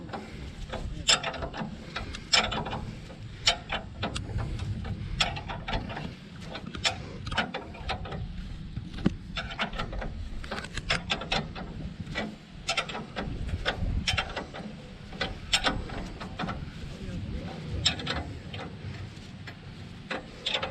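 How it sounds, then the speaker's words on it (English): A spanner ratchets repeatedly while tightening the cylinder lock on a cylinder lawn mower, giving close, steady clicking and ticking that continues throughout with no talking. "you basically just use a spanner just to make sure that that's nice and tight"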